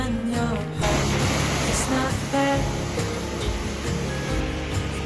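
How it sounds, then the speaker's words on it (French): Mountain torrent and waterfall in the Fer à Cheval cirque near Sixt, sending up clouds of spray: a steady, loud, broadband roar of rushing water that continues without a break, close by. "Le bruit, les brouillards de projection d'eau nous plongent dans un univers fantastique"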